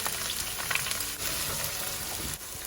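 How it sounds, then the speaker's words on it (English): Onions fry in leftover oil and juices from chicken for a Turkish chicken stew, a dense, loud, steady sizzle with brief stirring scrapes. "I'm just going to put the onions, cook for 10 minutes."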